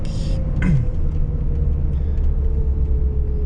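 Low steady engine rumble of a 1993 VW Polo 1.0i 45hp heard from inside the car, with a rising whine as it begins accelerating, a brief chirp early on, then a constant drone.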